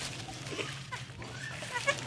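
A black goat kid bleats faintly a few times among farm animals just after a birth, soft nasal cries rising briefly over a low hum and quiet background.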